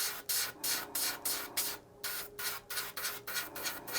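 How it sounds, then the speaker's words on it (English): A rapid series of short airbrush paint-spray bursts hissing close by in a steady pulsing rhythm, with no talking. "we're going to go ahead and we're going to spray paint that in"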